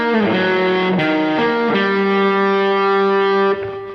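An electric guitar with distortion and effects plays the next phrase of a tune, a few held notes followed by one long sustained tone, loud and close with no talking.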